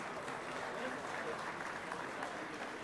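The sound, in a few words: applause from an audience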